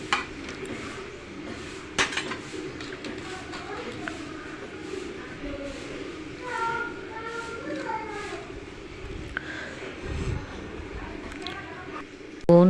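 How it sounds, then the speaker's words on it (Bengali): A metal spoon scrapes and clinks against a pot while bean and cauliflower curry with fried fish is stirred over high heat, irregular knocks and scrapes running beneath a quiet voice. "এখন আমি নেড়েচেড়ে একসাথে মিশিয়ে হাই হিটে কিছুক্ষণ রান্না করে নিব"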